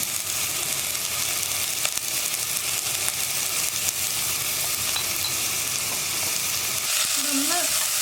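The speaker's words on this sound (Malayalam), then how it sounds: "ഇനി സവോളയും ഇഞ്ചി ഒന്ന് വഴറ്റിയെടുക്കണം." Onion and ginger sauté with salt in a pan for a vegetable kurma, a steady close sizzle and crackle that runs throughout, with a brief scrape of stirring near the end.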